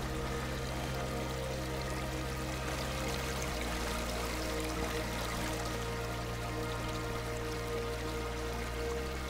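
Steady rushing of the falling waves waterfall in the north-east of the AER Memories of Old video game, a continuous broadband pour and splash that stays loud and even throughout with a faint tonal game ambience underneath.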